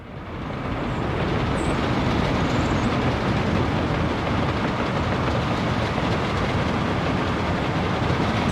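Fast trains in Workers & Resources: Soviet Republic produce a steady, loud rolling rumble with a constant rail clatter that rises briefly at the start and then holds throughout.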